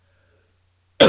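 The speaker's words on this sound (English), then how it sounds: "Sorry for clearing my throat, I'm a little sick right now." A single short, sharp throat clearing from a man who is a little sick, bursting out at the end after near silence.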